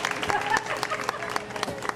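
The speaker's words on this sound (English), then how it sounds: "Everybody give a round of applause." Scattered applause from a small outdoor crowd at a housing-project family day, thin and uneven with distinct individual claps, fairly quiet over a faint background hum.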